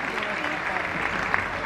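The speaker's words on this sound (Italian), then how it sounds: "Maria, un applauso." An audience claps steadily at a cabaret show, the applause fairly quiet and continuous for under two seconds.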